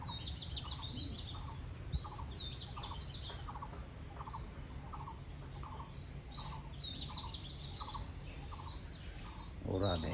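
Pigeons and small birds feeding on scattered wheat, with repeated soft chirps and twittering calls at a steady rhythm over faint outdoor background noise.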